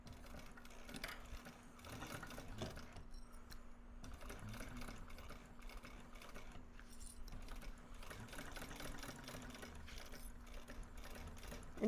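A sewing machine running a seam on a fabric bag, a steady low hum of continuous stitching through most of the stretch with faint clicks and handling noises, quiet and unaccompanied by talk.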